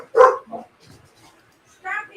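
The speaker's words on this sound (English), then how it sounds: "Dogs are barking everywhere." Dogs barking in a few loud, close bursts separated by quieter gaps, with faint background sounds between barks.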